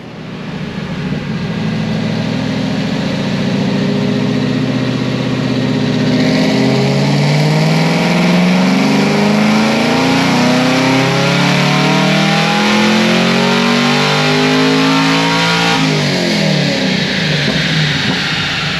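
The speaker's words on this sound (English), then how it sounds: "let me put some timing at this thing, see if we can pick up some torque and some power." A 950 hp fifth-generation Chevrolet Camaro ZL1 engine revs on a dyno, loud and close, its pitch climbing steadily through a long sustained pull and then easing off near the end, with no talking.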